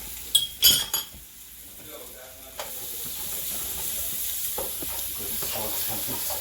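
Garlic sizzles in a pan of sautéed onions for an eggplant rollatini, opening with a few sharp utensil clinks and stirring knocks before settling into a steady, close frying hiss.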